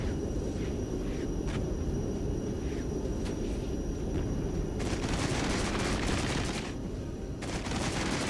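Battlefield gunfire in the Cold War strategy video game Regiments, 1989 setting: continuous rumbling combat din with scattered sharp shots and a dense burst of rapid automatic fire toward the end, distant and mixed.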